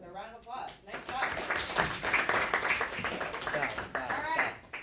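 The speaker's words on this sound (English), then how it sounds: "So a round of applause." Classroom applause after an algebra presentation: a burst of clapping from a small group of students that rises after a brief opening and holds steady for several seconds, with voices mixed in.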